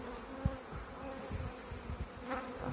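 Honey bees hum steadily around an opened hive during queen-cell checks, a close, continuous drone with a few louder buzzes passing near.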